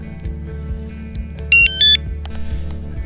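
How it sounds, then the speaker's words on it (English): A motion alarm mounted on top of a generator at a winter truck camp sounds close and loud, giving a burst of high electronic warning tones over the steady rhythmic chug of the running generator. "I do have a motion alarm mounted on the top of the generator that'll turn on overnight."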